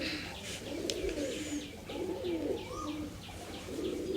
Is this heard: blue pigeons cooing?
yes